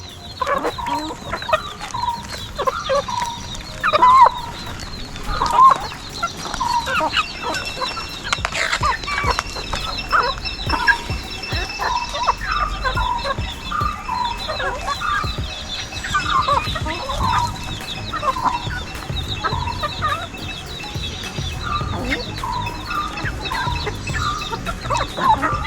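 Backyard farm chickens cluck and squawk steadily and close by, with bursts of louder calls and an occasional rooster crow mixed in, and no talk.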